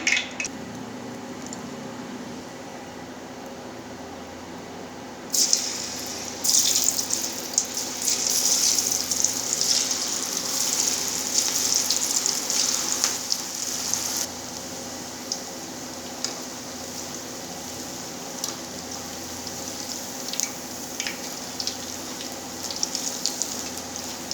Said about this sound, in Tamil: எண்ணெய் நல்லா சூடாகிடுச்சு இப்போ காலிஃப்ளவர் போடலாம்